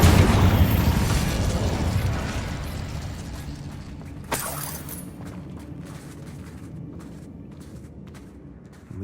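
Incendio fire spell in Hogwarts Legacy: a loud booming blast opens, then a long roaring burn decays over several seconds, with a sharp crack midway and faint crackles trailing off.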